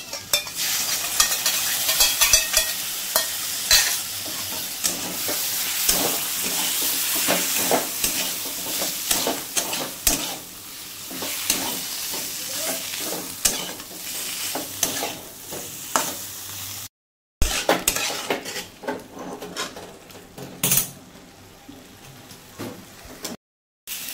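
Pointed gourd curry with yogurt is stirred in a hot pan, a loud continuous sizzle broken by repeated scraping strokes of a spoon against the pan, with brief gaps near the end.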